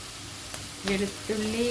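Ginger and garlic added to a pan for paneer butter masala give off a soft sizzle with short scraping stirs, beneath faint background noise.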